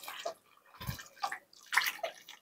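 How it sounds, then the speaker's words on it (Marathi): Water is poured and splashed over freshly churned butter to wash it, in several short splashing bursts with quiet gaps between. "साधारणतः 2 ते 3 पाण्याने आपल्याला हे लोणी स्वच्छ धुवून घ्यायचं आहे."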